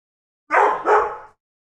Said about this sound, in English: Dog. Big dog.